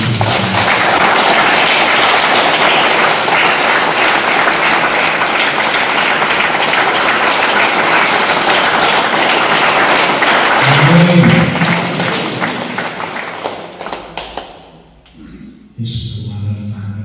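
Congregation at a church service clapping loudly and continuously, a thick dense roar of hands for about twelve seconds that then thins and fades out, with a voice briefly heard near the end.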